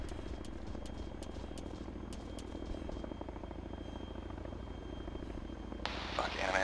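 A helicopter in a military video game, its rotor chopping in a steady low pulse with faint tones above, heard continuously under the battle noise until a burst of loud hiss near the end.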